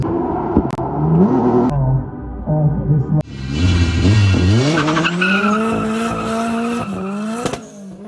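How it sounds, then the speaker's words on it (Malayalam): Cars drifting at a gymkhana drift event at a JDM car meet, engines revving and rising in pitch with loud, sustained tire squeal, close and dominant throughout. "ഡ്രിഫ്റ്റ് കോമ്പറ്റീഷനാണ്, പക്ഷേ സാധാ സൈഡ് വേസ് ഡ്രിഫ്റ്റ് ചാമ്പ്യൻഷിപ്പ് അല്ല"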